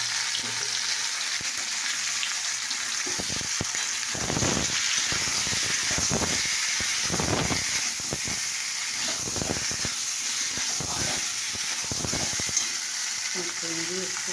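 Whole spices hit hot oil for tempering in a home kitchen, setting off a steady broadband sizzle that runs throughout, swelling in several brief surges as the pan is tended.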